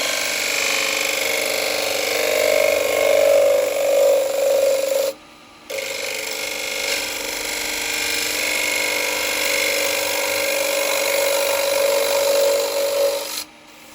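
A spindle gouge cuts into a wooden bowl on a lathe, giving a steady rasping, scraping whine that runs continuously, breaks off briefly partway through, then resumes until near the end.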